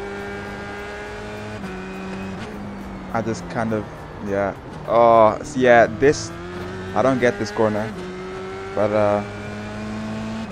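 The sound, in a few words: race car engine in iRacing video game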